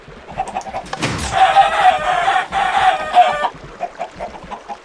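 Minecraft chickens cluck in a quick series of close, fairly loud clucks and squawks, bunched in several bursts over a few seconds, with no talking.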